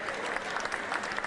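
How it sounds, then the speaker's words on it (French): Brief, fairly faint applause from a crowd, a soft patter of clapping with no talking. "je vais vous demander tous des applaudissements"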